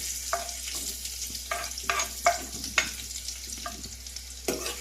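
Onions frying in hot oil with mustard seeds on a low gas flame, a soft continuous sizzle with a low hum beneath and several sharp stirring scrapes and spatters at irregular intervals.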